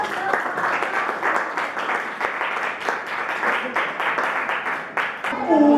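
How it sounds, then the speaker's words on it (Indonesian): An 8A school class applauds after group presentations, steady scattered clapping from many hands in a room for several seconds before it trails off. "Oke, tepuk tangan dulu."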